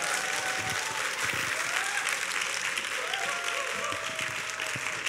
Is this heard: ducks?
no